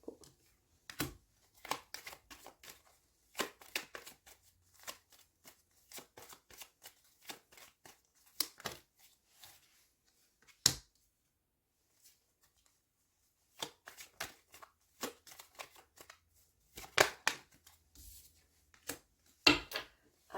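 Tarot cards being shuffled and drawn, close and fairly quiet, in repeated bursts of crisp flicking riffles separated by short pauses, with no talking.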